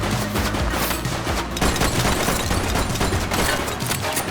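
Sustained gunfire from a suspect in the police game The Precinct, with dense rapid shots and bursts rolling continuously, loud and close throughout.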